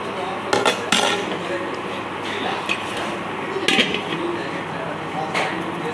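A lid clanks down onto a home-cooked biryani pot, a couple of sharp metallic clinks standing out over a steady kitchen background, with a few more light knocks of metal cookware following.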